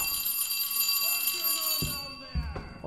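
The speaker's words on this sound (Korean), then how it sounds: "알람이 울리잖아" An electronic alarm rings in the horror game Metel, a bright tonal ringing with steady overtones that sounds through the stretch, joined near the end by a couple of dull thumps.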